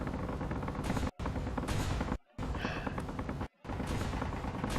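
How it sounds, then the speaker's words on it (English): Laser turrets in the Space Engineers video game fire at an enemy ship in a steady, dense barrage of loud rapid shots, broken by three brief gaps of silence. "these lasers will slowly chip away at their ship until there isn't much left."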